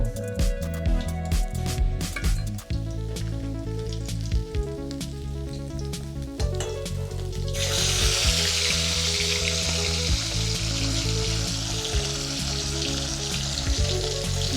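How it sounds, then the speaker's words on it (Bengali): Pomfret fish fry in hot oil, a steady close sizzle that swells louder and denser midway through, with tuneful background music playing throughout. "বাকি মাছগুলো আমি একইভাবে ভেজে নেব।"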